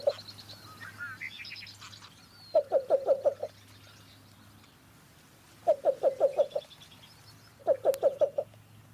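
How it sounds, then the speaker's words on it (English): A least bittern in a dense cattail wetland gives its cooing call in three separate bouts, each a quick run of about five soft, hollow notes separated by pauses. "coo call of the least bittern."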